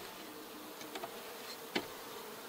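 Honey bees buzz faintly around an open beehive during an inspection, a soft constant hum with a few brief louder passes of single bees flying close.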